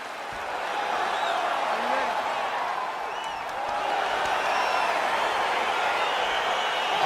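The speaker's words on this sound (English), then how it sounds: "crowd getting excited as this fight gets underway" Arena crowd noise in the video game EA Sports UFC 4, a dense, steady roar of cheering spectators that swells slightly as a fight begins, heard alone without commentary.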